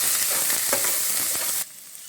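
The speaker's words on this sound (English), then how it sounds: "Just give this a stir and cook the ginger garlic until the rawness goes off" Ginger garlic paste fries in butter over a low flame for a seafood soup and is stirred, making a steady, close, dense sizzle that cuts off abruptly partway through.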